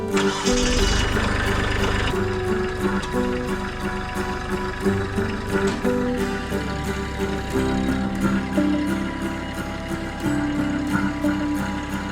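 A tractor engine cranks briefly and catches, then settles into a steady, rattling idle that runs close by without letting up.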